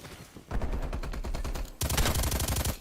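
Video game gunfire crackles in rapid bursts, a machine gun rattling after a short pause and then a louder, denser volley of automatic shots, with no talk over it.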